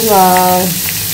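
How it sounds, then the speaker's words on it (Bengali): Paneer pieces frying in oil with mustard seeds, curry leaves, salt and turmeric give a close, steady sizzle for about a second, with a brief tonal whine over it early on. "সর্ষে আর কারি পাতা ফোড়ন দিয়ে পনিরগুলো ছোটো ছোটো টুকরো করে একটু নুন হলুদ দিয়ে ভাজা করে নেবে একটু ভালো করে।"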